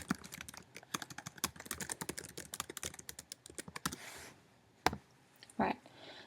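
Rapid clicking of typing on a computer keyboard while renaming a Google spreadsheet, a steady run of close keystrokes followed by a pause and a couple of isolated clicks.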